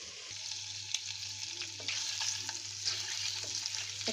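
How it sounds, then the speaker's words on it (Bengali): Potatoes are being sautéed and stirred in a pan for an egg and potato bhuna, giving a soft continuous sizzle with a few scraping stirs. No one talks. "কষিয়ে নিচ্ছি, এখন ঢেকে দেব।"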